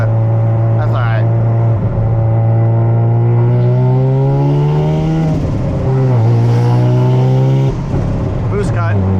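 A Mazda RX-7 FD rotary engine revs inside the car, a loud close droning tone that climbs and stutters against boost cut several times, with a voice briefly heard over it.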